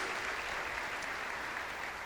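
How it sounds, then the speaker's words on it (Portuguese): Brief, steady patter of a church congregation clapping for the Lord, an even wash of many hands, somewhat faint and distant. "Você pode aplaudir ao Senhor"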